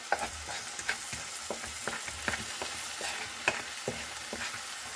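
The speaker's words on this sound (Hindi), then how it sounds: "ये जो हमारा चिकन है ना वो मैं सारा इसमें डाल दूँगी" Chicken frying with onions and masala, a soft steady sizzle broken by light rhythmic scrapes and taps of a spatula stirring in the pan, close but quiet, without speech.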